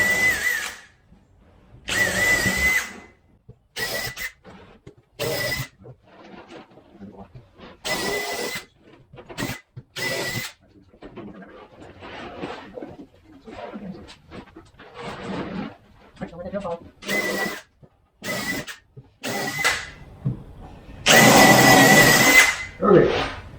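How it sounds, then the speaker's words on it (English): A power drill whirs in short repeated bursts with pauses between, drilling holes during mold making with wood, close and loud, while someone talks and breathes in the gaps. "So I'm going to drill a bunch of holes."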